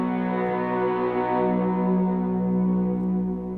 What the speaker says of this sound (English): it starts to sound more like a pad that you're used to